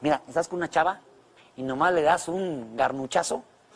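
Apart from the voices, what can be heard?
None of the usual background noises is heard.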